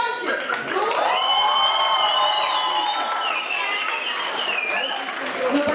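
Young people at a school celebration cheer loudly, their high shouts and whoops rising over steady clapping, the crowd noise staying dense and close throughout.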